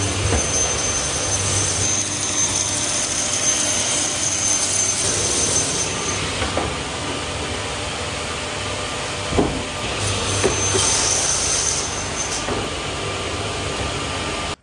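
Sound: wide belt sander sanding insulation panels

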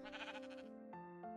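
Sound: sheep bleating in Minecraft video game

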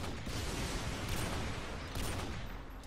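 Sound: gunfire in video game Call of Duty Modern Warfare 2

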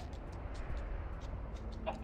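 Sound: chicken clucking in video game Minecraft Story Mode

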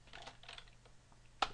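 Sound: typing on a computer keyboard

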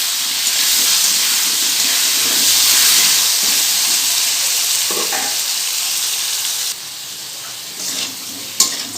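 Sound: potatoes with salt and turmeric frying in oil

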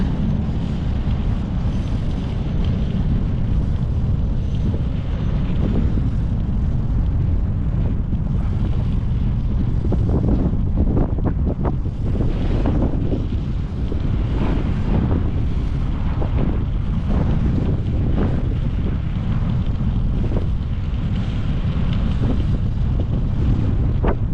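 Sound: strong cold wind blowing into microphone while cycling

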